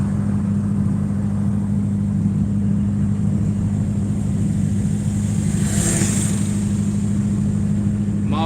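A driving-school training car hums along with a steady low engine drone and road noise, close and continuous, with a brief brighter whoosh partway through and no speech.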